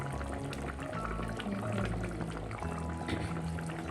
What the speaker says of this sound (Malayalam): കറിയൊക്കെ ഒരുവിധം തിളച്ചു.